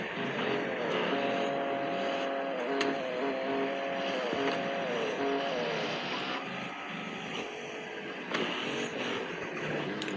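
Steady engine drone of a car driving in the mobile game Car Parking Multiplayer, with shifting tonal revs rising and falling over ten seconds, continuous and fairly loud throughout.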